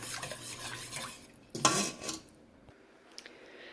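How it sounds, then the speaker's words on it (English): Whisk stirring cream in a bowl, soft clinking and swishing of metal against the bowl with a sharper clatter partway through before going quiet. "Then you need to get 1 cup of your cream. And whisk that until it's all mixed up."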